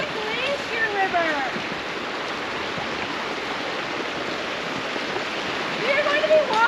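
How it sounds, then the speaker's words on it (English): Steady rushing water of the glacier-fed Bow River flowing in Banff, a continuous broadband wash heard close and fairly loud, with faint voices or chatter partly audible over it. "So this is one of two rivers in Banff."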